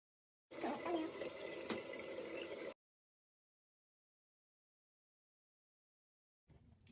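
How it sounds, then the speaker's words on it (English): Water runs from a bathroom sink tap during face washing, a steady, fairly loud rush lasting about two seconds before shutting off abruptly, followed by silence and a faint brief sound at the end. "now I'm gonna finish washing my face"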